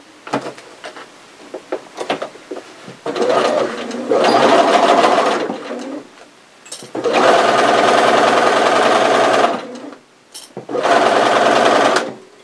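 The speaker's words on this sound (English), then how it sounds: "As long as you sew really closely on each side of the teeth, you'll be fine." A sewing machine stitches close beside the zipper teeth on a fabric face mask. Short stop-start runs come first, then three longer bursts of steady close mechanical whirring separated by brief pauses, with no talking.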